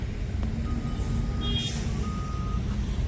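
Coal being loaded into a truck at Visakhapatnam port, with steady heavy machinery and engine rumble, a high reversing beep tone sounding intermittently, and continuous industrial noise throughout.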